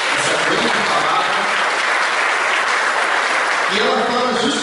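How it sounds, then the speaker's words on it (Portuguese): A church congregation applauds together in a steady, dense wash of clapping that fills the whole stretch at full volume, with no voices standing out. "Vou convidar você a dar uma salva de palmas para a palavra."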